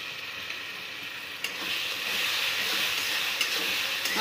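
Ginger-garlic paste with cumin and chili powder frying in a pan for jackfruit curry, a steady soft sizzle with occasional stirring scrapes, close and faint.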